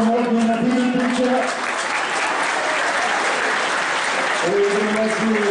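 A crowd applauds a substitution during a Serbian First League football match between Jedinstvo and Radnički NB, sustained clapping from the stands with a commentator talking over it at the start and end.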